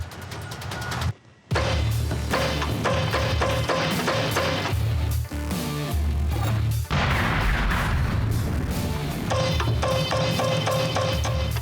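Rapid, loud gunfire rings out on a firing range as rounds are shot through a two-inch-thick conference table into a mannequin standing on top, a dense rhythmic volley that pauses briefly near the start and again midway.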